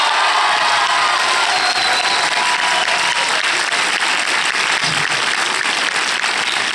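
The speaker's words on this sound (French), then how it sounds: "Un tonnerre d'applaudissements!" Loud, sustained applause from a cinema audience at a film premiere screening, dense clapping filling the room without a break, with scattered cheers mixed in.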